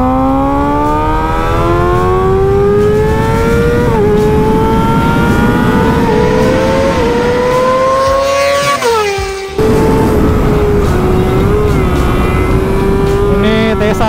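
A Kawasaki ZX636 sport motorcycle is ridden hard on the Mandalika racing circuit. Its engine screams at high revs and climbs through the gears, with one brief cut at a shift. The sound is loud and close throughout.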